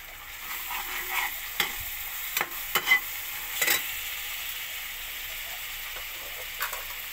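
Chopped onions with ginger garlic paste stir-fry in a hot pan, giving a steady, soft sizzle broken by several scraping stir strokes close by. No talking is heard.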